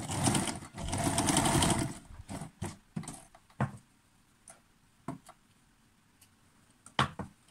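A sewing machine stitches bias binding onto a sleeveless shirt in a close, loud whirring burst for about two seconds, followed by scattered clicks and taps of handling the fabric.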